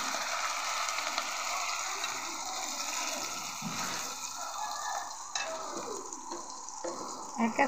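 Water poured into a pan of frying spice paste with bay leaf, giving a splashy, bubbling hiss that carries on steadily with some stirring clatter, fairly close, with no talking over it.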